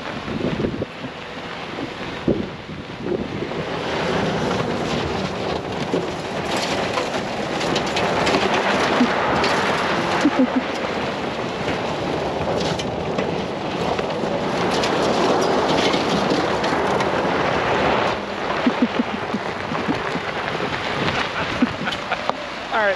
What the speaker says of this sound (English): let's go ahead and see if the new Passport Trailsport can do a donut